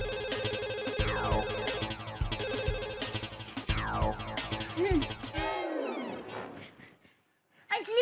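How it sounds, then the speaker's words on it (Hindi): A telephone rings over and over without being answered, a call placed to a neighbour's home in a comedy household scene, heard amid busy music and voices before cutting out near the end. "भाभी भी फोन नहीं उठा रहे हैं"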